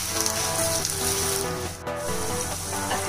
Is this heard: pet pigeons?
no